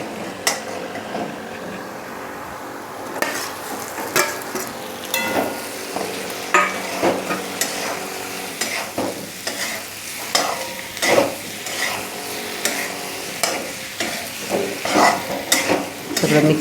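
Boiled potatoes are stirred with spices in a sizzling frying pan for a yellow potato bhaji, with a spoon scraping and clinking in repeated irregular strokes over a soft, steady fry.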